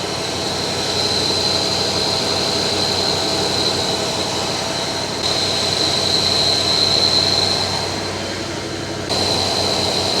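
The engine of a 1965 El Camino idles nearby with a steady, dense rumble and a high whine on top, keeping a fairly constant level with slight shifts as the idle settles, and no talking over it.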